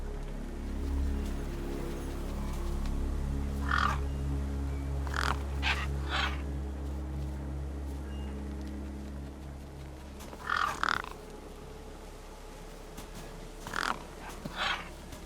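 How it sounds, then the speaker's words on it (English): Crows, the gang birds of the Beyond a Steel Sky video game, give harsh caws in short clustered bursts at intervals over a steady low hum, fairly close and clear. "The gang birds were eyeing up the corpse hungrily."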